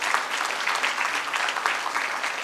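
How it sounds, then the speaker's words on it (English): Sustained audience applause at a ceremony handing out emergency medicine fellowships, steady dense clapping filling the whole moment with no voices over it. "So a round of applause for the AJ Shetty group"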